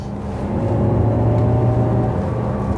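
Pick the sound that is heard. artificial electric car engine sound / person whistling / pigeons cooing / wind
artificial electric car engine sound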